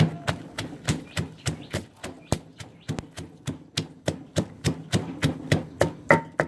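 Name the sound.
pounding roasted chili and garlic in a mortar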